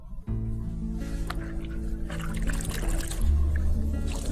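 Water splashing and trickling as a client's face is rinsed during a facial treatment, soft close dribbles and wet movement throughout, with a low steady hum underneath.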